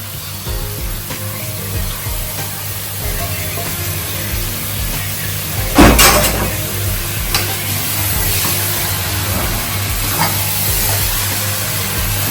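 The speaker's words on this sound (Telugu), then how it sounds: "మన సురేష్ ముక్కలు మ్యారినేషన్ చేసుకున్న కలిపేస్తుండు అటు మసాలాలు" Marinated mutton pieces being stirred and mixed with masala for a mutton curry, a continuous wet scraping and sizzling texture with a sharp knock partway through, no talk over it.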